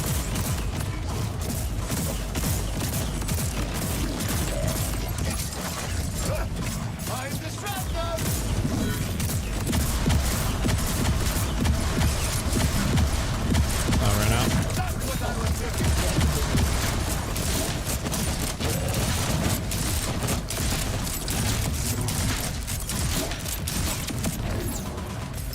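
Rockets fire again and again in a Borderlands shootout, a dense continuous barrage of blasts and impacts that fills the whole stretch, loud and unbroken, with game noise layered beneath.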